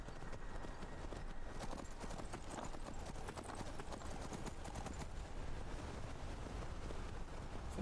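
A horse gallops steadily in Skyrim, a fast rhythmic clip-clop of hooves running continuously at moderate volume, alone without talk.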